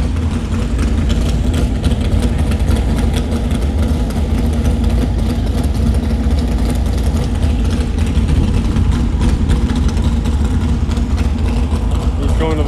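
A drag racing car's engine idles loudly and steadily at the start line of a dragway, a deep continuous rumble that fills the whole stretch, with a commentator talking over it.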